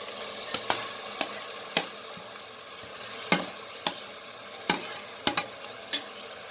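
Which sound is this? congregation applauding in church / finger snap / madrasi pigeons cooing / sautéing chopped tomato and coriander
sautéing chopped tomato and coriander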